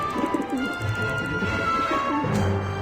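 A pigeon in the adventure game Syberia: The World Before gives soft, repeated throaty coos close by over a low ambient hum.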